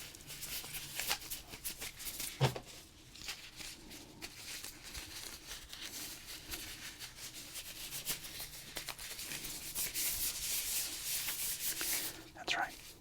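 Art gloves are pulled on close up with soft, continuous rubbing and rustling of fabric, quiet and intimate, broken by a sharper tap early on and a brief scuffing burst near the end.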